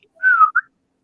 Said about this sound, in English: then you hear a whistle come from the top